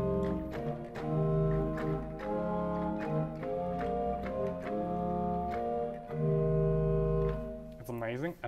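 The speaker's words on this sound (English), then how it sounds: "We've got a 16-foot quintatune, which gives the organ a bit of foundation, sounding like this." A pipe organ sounds its 16-foot quintaton stop, a deep, hollow foundation tone carrying a flowing passage of held notes and chords that stays fairly loud, then closes with a quick rising run.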